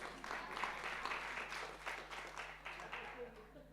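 Faint, distant applause from an audience at an open conference on collaborative learning and digital culture, a low, even patter of clapping that fades slightly toward the end.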